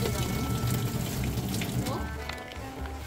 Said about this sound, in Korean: 4분이 지나서 물을 버립니다.